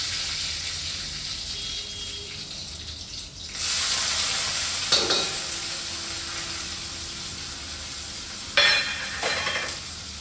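Onion frying in a pan for dal dhokli gives a soft sizzle that swells louder partway through, with stirring clatter and brief splashy bursts, and no talking.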